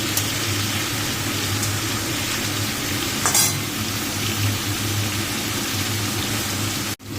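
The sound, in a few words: fish frying in a pan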